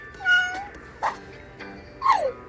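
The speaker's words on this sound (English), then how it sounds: "It's a cat." A cat meows three times during a kindergarten animals lesson, with short, clear, fairly close calls spaced about a second apart against a quiet room background.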